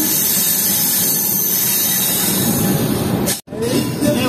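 A passenger train from Katihar pulls into Mansi Junction, a steady loud rumble of wheels and rail noise with hissing, broken by a brief dropout near the end before the rolling sound resumes.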